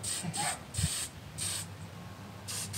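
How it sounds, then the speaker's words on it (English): Sealant sprays onto handmade wooden gifts in short hissing bursts from an aerosol can, five or six close sprays separated by brief pauses, with no talking. "Then we're gonna have to spray this side. Here. And this will seal and protect the wood,"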